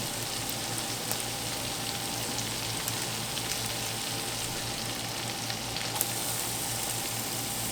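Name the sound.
garlic frying in a pan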